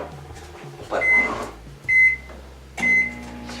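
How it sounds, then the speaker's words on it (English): A kitchen microwave oven melting a little butter hums steadily, with three loud rising surges of its running noise and faint electronic tones spaced about a second apart. "he's seriously not using the microwave to melt the butter, is he?"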